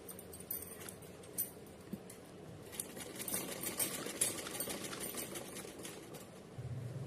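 A sewing machine stitches fabric for a Maa Durga poshak, a faint, fast, continuous patter of the needle with small irregular ticks and bumps throughout.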